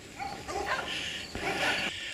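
Several dogs bark and yip together in overlapping bursts, mid-distance, outdoors on a Pennsylvania hiking trail.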